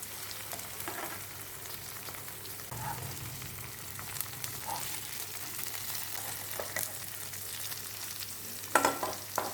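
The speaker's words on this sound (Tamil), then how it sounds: "இன்னொரு பக்கம் நல்லா இன்னும் ஃப்ரை ஆகட்டும்" Chicken pieces fry gently on a tawa over a low flame, giving a soft, steady sizzle with faint stirring and scraping, and no voices.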